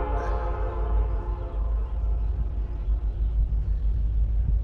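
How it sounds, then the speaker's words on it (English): A distant train rumbles and echoes broadly through a river valley, a deep sustained roar with a brief horn-like tone at the start, no voices. "The river valley is always cool just to hear these trains echo all over the place."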